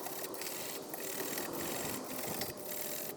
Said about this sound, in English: get a wire brush, and you just wanna scratch the hub, get any excess debris off